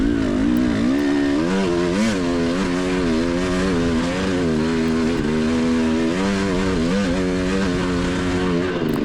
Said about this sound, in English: That's a pretty good hill climb on an adventure bike.